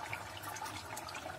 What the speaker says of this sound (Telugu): ఇది బాయిల్ అవుతుంది బాగా కనిపిస్తుందా